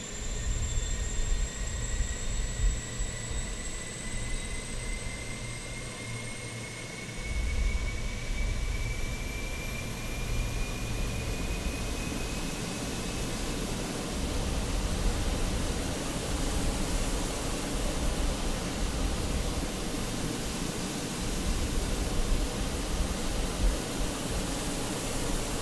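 An A320 auxiliary power unit runs in a flight simulator cockpit, a continuous broadband whine and roar with a rising high-pitched spool-up tone, steady and loud throughout with no talking.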